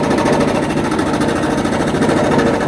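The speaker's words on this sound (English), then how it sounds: "Just showing you the working air compressor that I finally got. It is a Samborn." A Samborn air compressor runs steadily at close range, a loud continuous motor-and-pump drone with a fast rhythmic chugging pulse that stays even throughout, with no voices over it.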